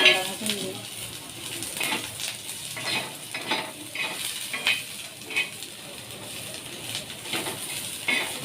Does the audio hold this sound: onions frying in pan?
yes